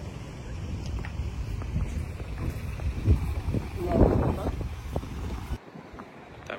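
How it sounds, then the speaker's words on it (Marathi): Cold wind blows outdoors before a graduation ceremony, buffeting the microphone with a low, gusty rumble while a person talks over it. It drops off suddenly near the end. "आणि काय थंडी वारा सुटले,"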